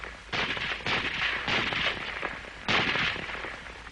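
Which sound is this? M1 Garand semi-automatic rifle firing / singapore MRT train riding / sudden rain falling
M1 Garand semi-automatic rifle firing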